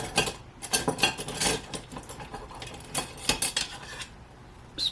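Spoon scooping thick beer soap batter and smacking it down in a container: repeated close clacks and scrapes in an uneven rhythm, with no talking.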